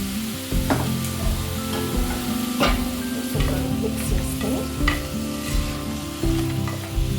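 Radish pieces salted and stirred in a hot pan, sizzling steadily with repeated scraping and clinking strokes of the spatula, close and clear with no talking.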